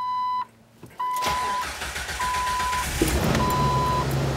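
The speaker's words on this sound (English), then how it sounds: "So we want to start the good vehicle now." An RV's engine starts on jump-start power from a good battery and settles into a steady close idle, with intermittent electronic beeps over the running engine.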